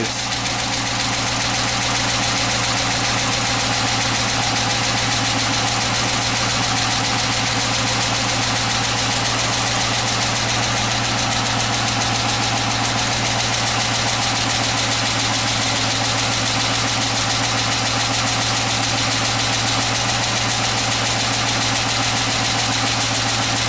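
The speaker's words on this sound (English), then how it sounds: "I'm just going to leave it idling for about 10-15 minutes" A Chrysler 300 engine with a cylinder misfire idles steadily and evenly for a long stretch while warming up, a constant low hum with a slight rhythmic knock and no talking.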